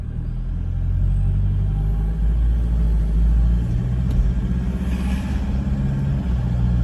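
A car engine runs through its warm-up and pulls away, a steady low rumble that holds close and even throughout with a slight rise as it gets moving.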